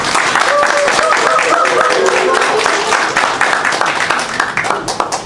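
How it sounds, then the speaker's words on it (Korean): A crowd at a political party academy lecture applauds to welcome a vice-chairman, with sustained, fairly loud clapping that gradually thins toward the end, while voices talk faintly underneath. "힘찬 박수로 김현석 부위원장님 모시겠습니다."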